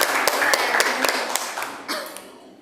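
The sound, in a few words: classroom applause for a classmate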